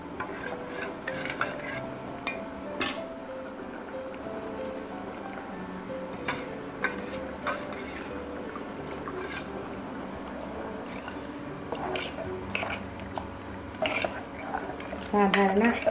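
Onion sambar being stirred with rinse water from a mixer jar, with steady metallic scraping and clinking of a spoon against the pot, repeated rubbing strokes and occasional sharper knocks throughout, close and moderately loud.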